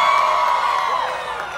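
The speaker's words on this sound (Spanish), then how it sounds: "Solamente tengo que decir un nombre y todo el mundo va a gritar." A concert crowd at a show in Dallas screams and cheers in a loud, sustained, high-pitched roar that stays steady throughout.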